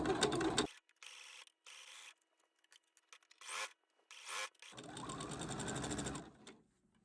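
A sewing machine fitted with a walking foot stitches binding onto summer dress fabric in several short bursts, then one longer steady run, its motor whirring close and fairly quiet with clicks of handling between bursts.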